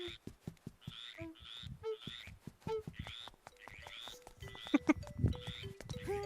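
A game frog in Link's Awakening croaks in a repeating, rhythmic series of short calls, soft and steady, while a voice talks intermittently.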